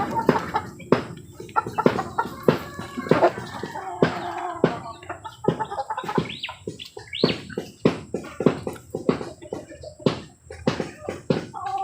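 Free-range hens cluck under a mango tree in the rain, with steady patter and scattered drips throughout and a few brief bird calls, moderately close.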